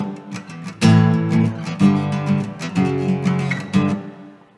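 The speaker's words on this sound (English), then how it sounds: "I'm going to be playing some power chords that actually in the original version the bass player is playing." An electric guitar chugs through sustained power chords in a steady riff from a song, several sharp attacks ringing out loud and close before fading, with no talking.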